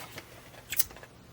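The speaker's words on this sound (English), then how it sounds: "A nice pair of long scissors is helpful for" Long scissors trim excess washi tape from the edge of a handmade Christmas card, giving a few quiet, crisp snips close by with one sharper cut in the middle.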